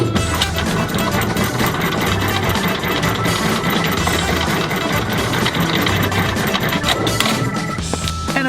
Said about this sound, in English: it's been a while since I've raised landing gear on camera